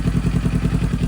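A Kawasaki Z400 motorcycle with a new Akrapovic exhaust idles loudly and close, its steady, throbbing low pulse repeating evenly with no voices.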